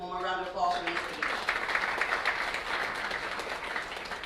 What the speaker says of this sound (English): One more round of applause for Ms. H.